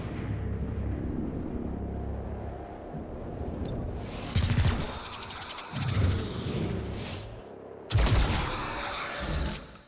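Gunfire in the video game XCOM: Chimera Squad, with a rumbling low backdrop broken by three loud bursts of shots, each lasting under a second, spaced a few seconds apart.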